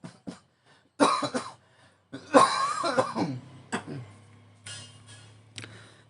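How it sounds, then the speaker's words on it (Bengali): A person coughs several times during an HTML lesson, close and fairly loud harsh bursts with pauses between them and some throat noise. "সরি একটু কাশি হয়েছে।"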